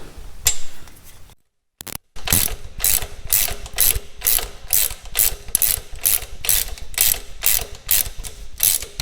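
A socket ratchet clicks in quick, even strokes while tightening a highway peg mount on a Harley Road King, loud and close, broken by a brief pause near the start.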